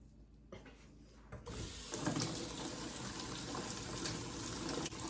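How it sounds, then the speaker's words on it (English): Steady broadband rush of warm tap water running continuously over frozen food, fairly close, starting after a brief quieter moment and staying even to the end. "Run underneath some warm water."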